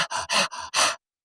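A person imitates a dog panting with five quick, breathy huffs in an uneven rhythm, close and fairly loud, then stops abruptly into silence.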